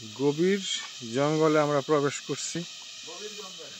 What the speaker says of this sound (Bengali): আমরা জঙ্গলের ভিতরে ঝিঝি পোকার ডাক,